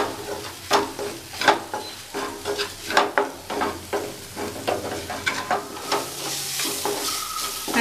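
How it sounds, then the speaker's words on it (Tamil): A spoon stirs mushroom gravy in a pan with steady scraping strokes while the food sizzles underneath, close and fairly loud throughout. "இதெல்லாம் சேர்த்து நல்லா மிக்ஸ் பண்ணிக்கலாம்."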